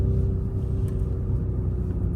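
Hyundai IONIQ 6 N electric car maneuvering on the road, a steady low rumble of tyres and drivetrain close by, continuous without pauses or talk.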